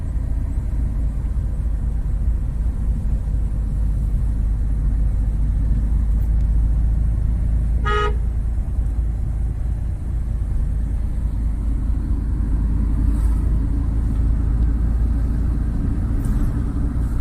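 Steady low road rumble inside a car during a driving lesson on a narrow road, continuous engine and tyre drone throughout with a brief faint click partway, no talking.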